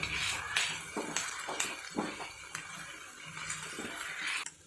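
Onion and tomato being sautéed in a pan over a low gas flame, with soft intermittent scrapes and clinks of a spoon against the pan over a quiet background sizzle, close by with no talk.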